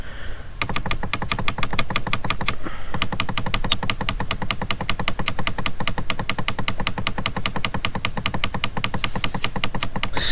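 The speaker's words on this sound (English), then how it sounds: "Spam clicking all day, every day." Rapid, continuous clicking, a dense steady stream of sharp taps played while gaming in the Minecraft Splegg minigame, loud and close with no voices.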